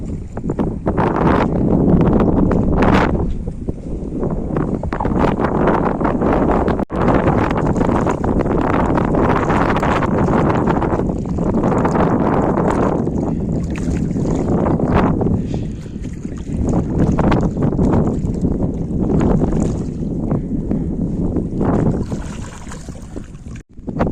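A large tourist boat passes a Sundarbans jetty at night, giving a steady, loud, windy engine and water rumble that runs without a break and swells and eases slightly.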